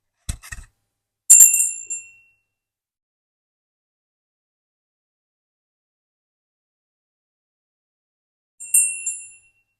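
A bell rung to open a moment of silence in a quiet room, a single bright ring that fades quickly, followed by several seconds of stillness before a second clear strike.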